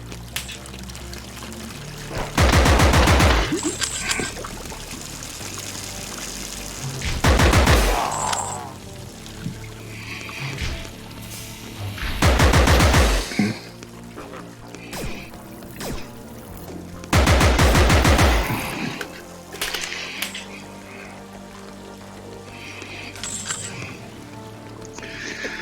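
Bursts of gunfire in the video game Compound arrive as four loud rapid volleys spaced several seconds apart, with quieter clinks and game effects in between.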